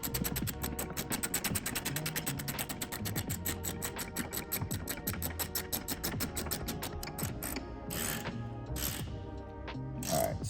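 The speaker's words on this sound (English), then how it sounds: "Now we're gonna take our ratchet again with our 5/16 and we're gonna tighten this down" A ratchet with a 5/16 socket tightens a truck bed mount bolt, its dense pawl clicks running in a steady, close stream for the whole stretch, slowing into short bursts near the end.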